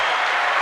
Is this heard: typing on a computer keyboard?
no